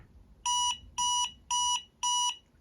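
An Energrid accessible power bank beeps four times, evenly spaced, each a clear electronic tone lasting about a quarter second, close and loud against a quiet background.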